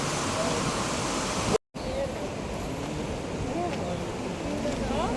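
A rushing river in Bhutan roars as a steady, broadband wash of water, continuous and fairly close, with one brief dropout partway through and no clear talk over it.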